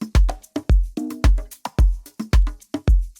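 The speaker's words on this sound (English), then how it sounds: "Let's say I have a drum groove that sounds like this." An organic-sounding drum groove with a deep kick and crisp snare hits. The pattern repeats in a steady, punchy rhythm, close and loud with no other sounds.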